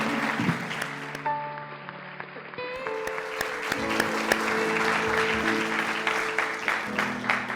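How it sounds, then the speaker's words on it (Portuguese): Congregational applause during a church worship service, a steady wash of clapping at moderate level layered with sustained keyboard tones. "Uma salva de palmas ao Senhor."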